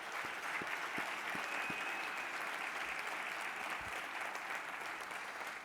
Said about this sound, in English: they deserve a strong round of applause